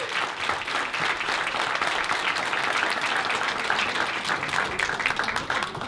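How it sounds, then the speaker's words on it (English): Sustained, dense applause from a crowd, steady and loud throughout with no pauses or voices standing out. "Let's give them a round of applause."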